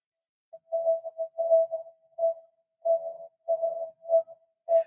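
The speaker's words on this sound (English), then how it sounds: "what you're hearing is the frequency going higher and lower as it's going towards you and away from you." Pure electronic tone in a Doppler effect simulation, sweeping slightly higher and lower in pitch in short bursts as the source seems to pass toward and away, faint and thin.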